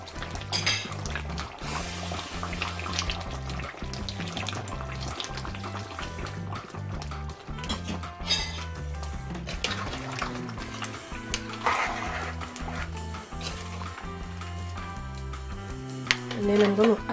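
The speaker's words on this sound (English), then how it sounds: "so I'm going to add more water." Water is poured into a cooking pot of stewed goat meat and plantain, a splashing, trickling pour with clinks of pots and utensils, close and moderately loud, while music plays in the background.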